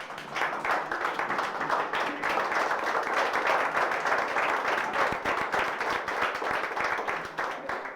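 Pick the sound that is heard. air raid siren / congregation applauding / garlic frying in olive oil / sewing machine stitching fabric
congregation applauding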